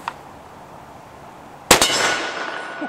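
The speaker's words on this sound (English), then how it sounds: "today we are shooting a Ruger American Ranch in 450 Bushmaster" Ruger American Ranch rifle in 450 Bushmaster fired outdoors: one sharp, loud shot with a quick echo, trailed by a ringing metallic clang and a decaying rumble.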